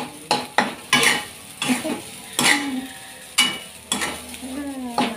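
A spoon scrapes and clanks against a pan while carrot fried rice, a simple village-style nasi goreng, is stirred. Repeated sharp metallic strikes and scrapes sound close over a soft sizzle, with no talking.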